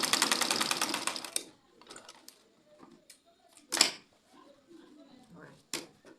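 A sewing machine stitches fabric onto an elastic band, with a close rapid burst of stitching at the start followed by scattered clicks and taps and quiet talk.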